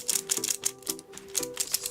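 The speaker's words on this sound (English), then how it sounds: "So the actual turning right here is very clacky" Ball-bearing fidget spinner turning by hand, giving a fast, close, clacky rattle of small clicks in bursts with brief pauses between.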